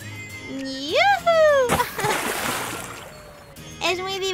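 A PJ Masks toy figure drops off a water slide and splashes into water, a short burst of splashing and sloshing bracketed by an excited voice before and a talking voice after.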